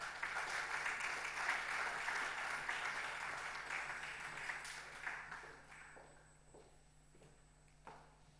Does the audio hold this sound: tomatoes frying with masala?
no